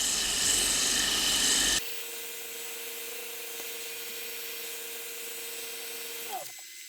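Sandpaper of 120 grit presses against turned wood spinning in reverse on a lathe for a lamp, giving a loud rasping burst that stops abruptly and leaves the lathe motor's steady tonal hum running alone, with a faint scrape at the end.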